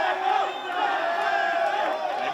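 Live crowd at an OnlyWrestlers Live wrestling event in Los Angeles, a steady roar of cheering and shouting that stays loud and dense throughout, with no clear single voices standing out.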